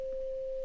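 A pure 528 Hz sine tone hums steadily and evenly for under a second, with no talking or other sound.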